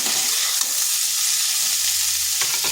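Ivy gourd (kundru) frying in a pan with turmeric makes a steady close sizzle. Faint stirring scrapes are heard and a brief clatter comes near the end.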